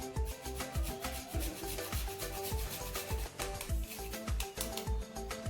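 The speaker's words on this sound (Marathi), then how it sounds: "त्याचबरोबर मी सांगितलं होतं की जायफळ अर्धा चमचा इतकं किसून घालणार आहे." Nutmeg grated by hand into a spice mixture for sesame poli, a quick, rhythmic series of close, soft rasping strokes with no speech.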